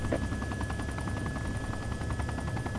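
Helicopter in the ArmA 2 combat game flying with a damaged tail rotor, a steady low droning rotor wash with faint rhythmic chopping and a thin whine, continuous and fairly quiet throughout.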